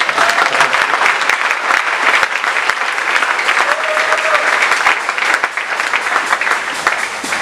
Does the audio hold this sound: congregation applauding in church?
yes